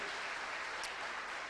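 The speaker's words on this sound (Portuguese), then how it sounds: "com um grande aplauso a Jesus pela vida dele" A steady wash of applause at a church service, even and sustained, heard from a distance like a crowd clapping together.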